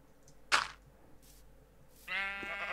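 A sheep in the Minecraft video game bleats, a short cry followed by a longer, louder wavering bleat, fairly faint against a quiet background.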